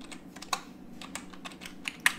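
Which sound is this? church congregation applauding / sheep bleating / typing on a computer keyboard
typing on a computer keyboard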